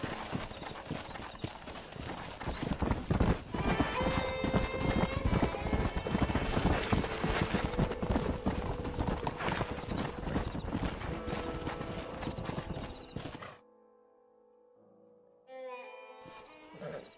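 In Red Dead Redemption, rapid, continuous horse hoofbeats clatter along for over ten seconds with a whinny mixed in, then cut off abruptly to quiet background music.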